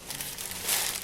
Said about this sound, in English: So we'll get rid of the paper.